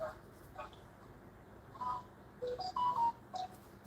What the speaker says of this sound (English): Somebody's phone is making noise in the background.